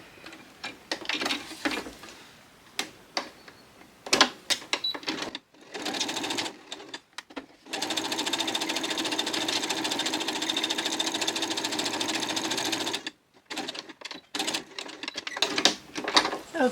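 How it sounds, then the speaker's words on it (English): A sewing machine stitches along the edge of scrap fabric on a free-motion stitching envelope, rapid mechanical whirring in short bursts and one long steady run, close and fairly quiet, with pauses between passes. "I'm going to just sew down right along the edge of that as well"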